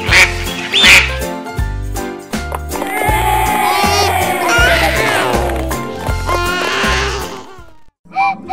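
A duck quacks repeatedly in loud, nasal bursts over a bouncy children's music track with a steady beat, alongside a brief squeaky toy-like sound.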